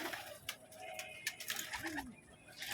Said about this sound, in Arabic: الحمام دلوقتي افتح له قدامكم